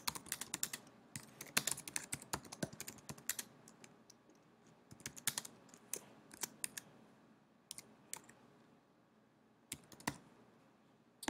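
Keys on a computer keyboard clack in irregular bursts of close, crisp typing with short pauses between words, ending with a few scattered taps.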